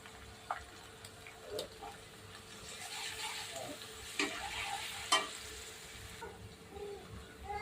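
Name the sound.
ginger garlic paste frying with golden brown onions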